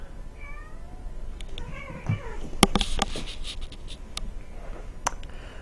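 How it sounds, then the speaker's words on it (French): A cat yowls and meows angrily in a video game, wavering cries over scratchy clicks and game sound effects. "Chat qui pète un câble"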